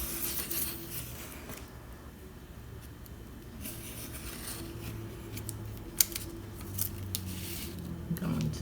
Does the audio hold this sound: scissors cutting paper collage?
yes